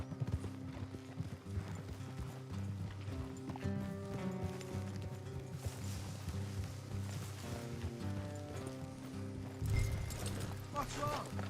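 Horse hooves clip-clop steadily on a road in the video game Red Dead Redemption 2, mixed with a game soundtrack and ambient noise, with a brief louder thump near the end.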